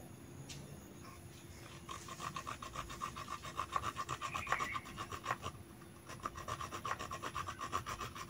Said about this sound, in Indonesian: Di sini saya menggunakan gergaji kecil.